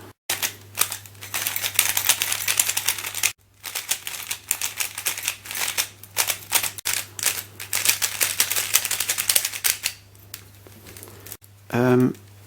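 Rapid clicking and clacking of a puzzle cube being twisted close up, in quick bursts with brief pauses between runs of turns.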